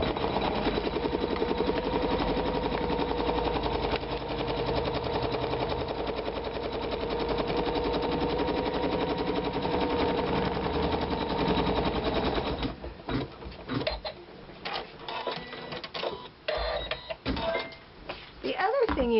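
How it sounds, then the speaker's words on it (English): A sewing machine stitches a placement line on a quilt, humming steadily with a fast, even needle rhythm for most of the stretch, then slowing into uneven, intermittent stitching near the end. "now I'm going to start stitching my placement line"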